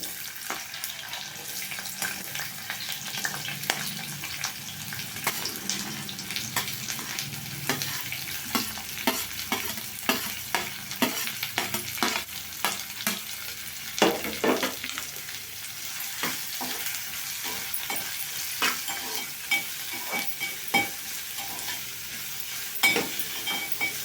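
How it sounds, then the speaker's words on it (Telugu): Chopped chillies and onions frying in a pan for a fish curry, giving a continuous close sizzle broken by repeated sharp stirring scrapes and clinks of a spoon against the pan. "ఇప్పుడు చిల్లీ ఆనియన్స్ కట్ చేసి పెట్టుకున్నాం కదా ఇవి వేసేద్దామండి దీంట్లో"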